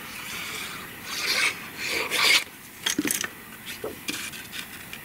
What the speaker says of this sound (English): Just going to trim it down about the same size as my card topper.